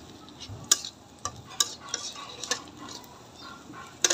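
Onions frying toward brown in a pan while being stirred, with a few sharp utensil scrapes and clinks over a soft, low sizzle, close and fairly quiet, no talking.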